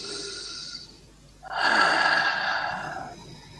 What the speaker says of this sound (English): And we take a big deep breath.